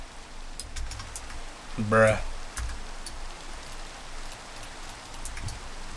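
Steady hiss of rain falling in Minecraft, even and constant, with a brief voice speaking in the middle.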